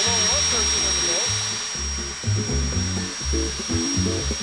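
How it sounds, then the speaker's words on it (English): Milwaukee M18 Super Hawg drill driving a boat motor, a steady high motor whine with water rushing beneath, overlaid by a person talking close by. "Can you put a super Hawg on a boat motor?"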